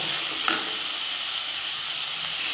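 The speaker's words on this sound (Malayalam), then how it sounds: "പച്ചമുളക് ഇട്ടു കേട്ടോ. എന്നിട്ട് അത് ഒന്ന് വഴറ്റുക കേട്ടോ" Green chillies sautéing in hot oil with a little salt in a pan, giving a steady close sizzling hiss with a brief clink of stirring near the start, no talking.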